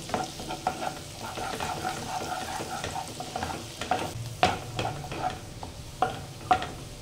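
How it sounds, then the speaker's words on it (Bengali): Garlic and green chilli stir-frying in a pan, giving a soft, steady sizzle broken by sharp scrapes and clicks of stirring that grow more frequent toward the end. "এখানে আমি এই পর্যন্তই রসুনটাকে একটু নেড়ে চেড়ে নিলাম"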